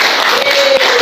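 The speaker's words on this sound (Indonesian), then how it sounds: "Tepuk tangan untuk kelompok 1." Classroom applause for a student group after their presentation, a dense steady patter of many hands clapping at close range, sustained evenly throughout without pause.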